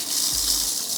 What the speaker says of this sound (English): I'm gonna hook up the water. Just make sure that it's cold water coming through and not hot.